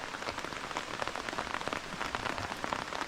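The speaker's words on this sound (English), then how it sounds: "and it's raining again." Steady rain patters on a camping tarp, dense crackling drops close overhead with no letup, fairly soft and with nobody talking.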